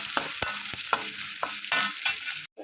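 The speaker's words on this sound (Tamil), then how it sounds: "வெங்காயம் கடுகு வெங்காயம் போட்டு வதக்கணும்" Banana flower stir-fry with mustard seeds and onion sautéing in a pan: a steady sizzle broken by repeated scrapes and knocks of a stirring spoon, close up, ending in a brief silence.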